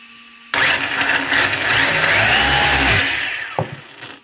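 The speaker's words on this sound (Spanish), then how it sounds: "le vamos a dar un gatillazo que veáis" A Team Corally Python RC car motor snaps to life and is held at a loud, sustained high-revving whine for a few seconds before dropping off abruptly, heard close up with no talking.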